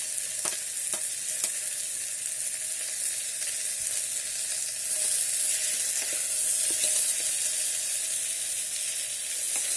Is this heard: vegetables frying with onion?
yes